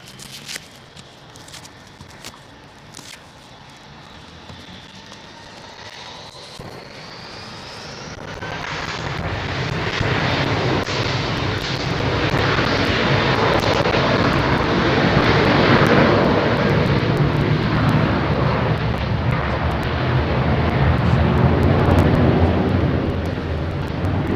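An airliner with GE jet engines at London Heathrow, a faint distant whine at first, then a roaring jet rumble swelling after several seconds into a loud, sustained wash of engine noise as it passes close by.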